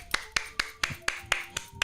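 Hands clapping in a steady, evenly spaced rhythm, about eight sharp close claps over under two seconds with no talking.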